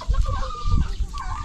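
Chickens cluck close by in a short burst of low, choppy calls, with outdoor ambience behind.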